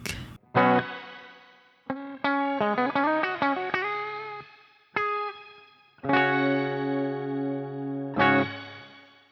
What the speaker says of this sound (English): Next would be the reverb, or at least the shimmer reverb.